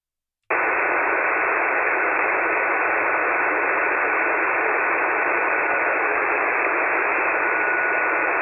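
Steady, dense hiss of HF ham radio static on the 40-meter band, starting abruptly after a brief silence and holding at an even, loud level throughout with no voices breaking through.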